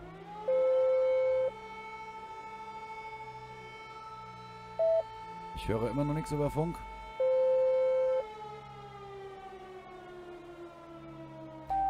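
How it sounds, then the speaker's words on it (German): Civil defense air-raid sirens hold long, steady wailing tones during a police patrol roleplay set in Berlin. Someone talks over them, and a burst of clattering noise breaks in midway. "Ihr seht die Sirenen. Fliegeralarm, die Russen kommen."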